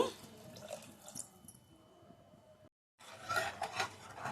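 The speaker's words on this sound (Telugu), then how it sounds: "వాటర్ పోసుకున్నానండి" Water splashes into a metal pot of smashed raw mango for a tamarind-style stew, with light clinks of utensils, close by; a brief dropout, then louder pouring and sloshing.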